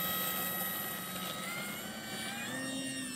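An FMS Kingfisher 1.4m RC plane flies with a steady, high electric motor whine and propeller buzz, holding at a fairly even level that rises slightly in pitch at the end.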